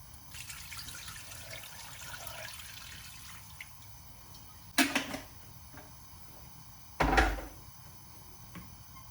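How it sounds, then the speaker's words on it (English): Water pours in a soft, steady trickle, then two louder splashy bursts of liquid hit a pot of salted goat pepper soup, close by. "Now add some water."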